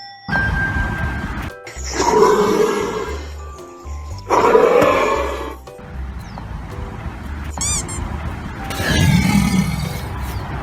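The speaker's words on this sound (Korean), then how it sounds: "이거 호랑이야." Several loud tiger roars, three long growling bursts separated by short pauses, with a brief chirping animal call between them and rumbling, close and dominant throughout.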